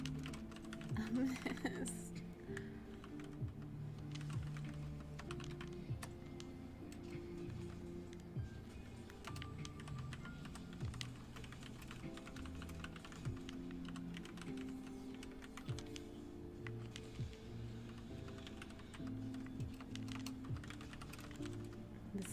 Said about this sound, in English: The satisfying typing sounds.